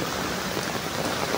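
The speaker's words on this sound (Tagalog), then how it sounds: "lumakas ang ulan mga Panula friends" Heavy rain pours down onto an umbrella in Quezon Province, a dense, loud, continuous hiss of drops with no pauses and no talk.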